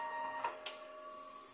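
An inkjet printer running a head cleaning cycle gives off a faint, steady mechanical whine with a few soft tonal hums, broken by two short clicks early on.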